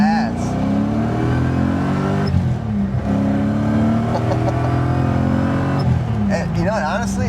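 A BMW E30 coupe with a swapped M60B44 V8 accelerates hard, its engine note climbing steadily through the revs and dropping at each gear change, loud and close from inside the car.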